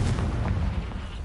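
A Confringo blasting spell from Hogwarts Legacy detonates in a single heavy, booming explosion with a strong low rumble that rolls on briefly before fading.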